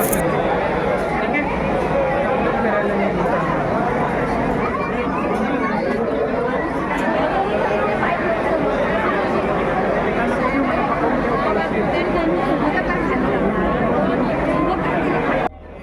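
Dense crowd babble fills a queue outside a busy Nashik temple, many voices chattering continuously and overlapping at a steady, fairly loud level throughout.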